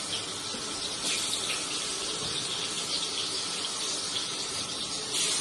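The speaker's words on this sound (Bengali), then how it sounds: "জল ঢেলে রাখছি" Water pours into a cooking pot of cabbage and potatoes as a steady, bright splashing rush that runs evenly throughout, without speech.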